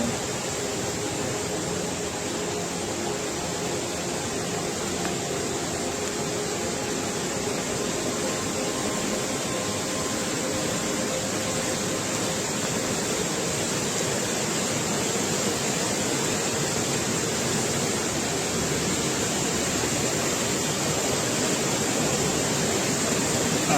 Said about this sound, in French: c'est l'eau qui descend de la cascade du bief de la ruine